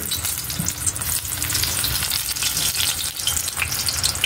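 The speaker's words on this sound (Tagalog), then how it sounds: "Pagprito na po tayo mga idol, oh." Freshly harvested eggplant fries in hot oil, a loud continuous close sizzle with crackling spatter and faint stirring, no speech.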